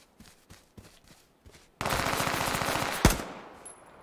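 Automatic gunfire in the battle royale game H1Z1 on PS4 Pro: a few sparse single shots, then a loud, sustained burst of rapid fire ending in one sharp crack, with a faint high tone trailing after.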